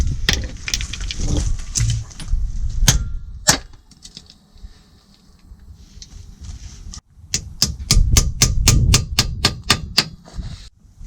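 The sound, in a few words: hammering a socket onto a seized suspension bolt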